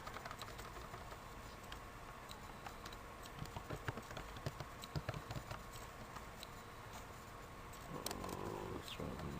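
Fast, irregular patter of keys on a computer keyboard, faint and close, continuing in short bursts with no talking.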